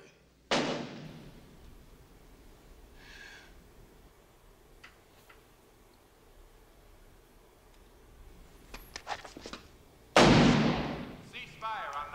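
Two sharp gunshots at a shooting range, one early and one near the end, each a loud crack with a short decay, separated by a long stretch of quiet room noise and faint clicks.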